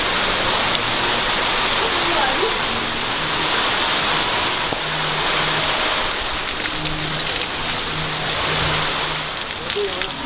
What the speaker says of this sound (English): It just started raining.